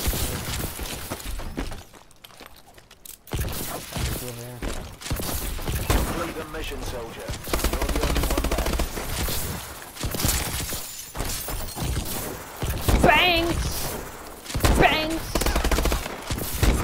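Video game gunfire crackles in repeated rapid bursts mixed with shattering, breaking impacts, while a player talks over much of the action.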